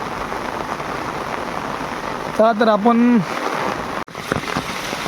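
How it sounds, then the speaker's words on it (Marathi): Heavy monsoon rain pours steadily onto the ground beside freshly sown fields, a dense continuous hiss. A voice speaks briefly over the downpour midway through. "नुसता धो धो धो धो सुरुवात झाली ना पावसाला की पाऊस भरपूर पडतो"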